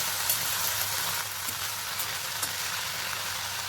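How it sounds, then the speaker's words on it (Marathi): Washed, chopped spinach stir-fries in a pan over a gas flame, giving a steady, close, hissing sizzle that stays fairly loud throughout, with a few faint stirring clicks and no talking. "आपण पालक टाकून घेऊया इथं मी धुवून कापलाय पालक आणि खास गॅसवर परतून घेऊया आपण"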